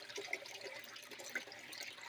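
Pump-fed water runs steadily over a gold sluice table, a constant wash of flowing and trickling water with small splashy peaks, fairly close and alone with no talk.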